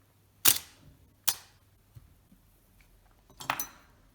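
A Contaflex IV camera shutter trips several times, each release a sharp, close mechanical snap followed by a short metallic ring, with no talk.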